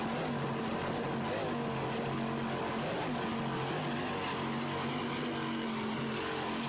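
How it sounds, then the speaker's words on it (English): Two 600-horsepower Advantage inboard engines on a powerboat racing in the Islamorada Budweiser 100, a loud, steady droning roar with a constant low hum, heard continuously from start to end. "Listen to those two 600-horsepower Advantage inboards."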